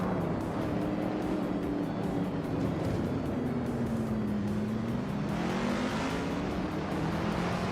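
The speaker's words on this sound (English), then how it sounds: "The vintage supercars are roaring to life at the Korean Grand Prix track." Vintage supercars, including a 1969 Dodge Charger Hemi, roar together at the start of a racing video game at the Korean Grand Prix track, a loud continuous engine drone with rising and falling pitch and no voices.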